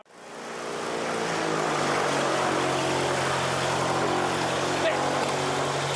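A steady, loud engine roar builds over the first second and holds, like an aircraft revving up, with low droning tones throughout.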